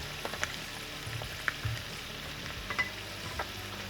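Vietnamese pillow cake pastry frying in hot oil, a soft steady sizzle with small scattered pops and crackles, quiet and close, and no voices.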